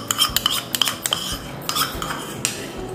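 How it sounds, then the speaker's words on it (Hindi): A spoon clinks and scrapes against a bowl while mixing yogurt chutney with cumin and coriander leaves, producing a string of sharp, close metallic taps and scrapes at an uneven rhythm. "अब आराम से इसको पूरा मिक्स कर देंगे।"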